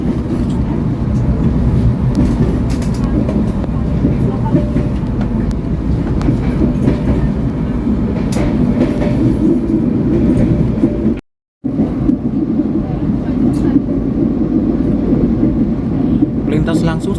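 A stainless steel first-generation passenger train runs straight through Arjawinangun station in Cirebon, giving a loud, steady onboard rumble of wheels on rails with faint clickety-clack, unbroken apart from a brief dropout partway through.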